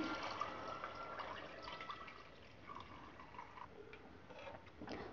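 Soaking water from basmati rice poured into a cooking pot for green peas pulao, a steady faint splashing pour heard alone without talk.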